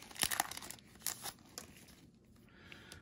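A 1998 Stadium Club baseball card pack is torn open close up, with a few sharp ripping bursts and crinkling foil wrapper, then quieter rustling. No one speaks.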